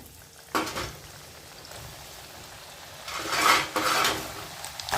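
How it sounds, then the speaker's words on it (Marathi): Sabudana sandge, sago crisps, frying in hot oil on a gas stove, with a steady close crackle that surges into louder sizzling bursts around midway and near the end. "गॅस मोठं केले, सांडगे घाला."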